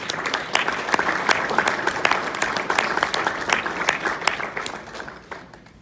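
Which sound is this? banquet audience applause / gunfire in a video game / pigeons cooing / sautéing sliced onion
banquet audience applause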